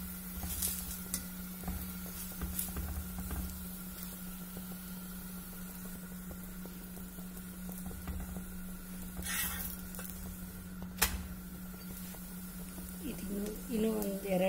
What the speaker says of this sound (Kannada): ಈಗ ಇದಕ್ಕೂ ಸ್ವಲ್ಪ ತುಪ್ಪ ಹಾಕೋಣ ಇದು ಎರಡು ಕಡೆ ಚೆನ್ನಾಗಿ ರೋಸ್ಟ್ ಆಗಲಿ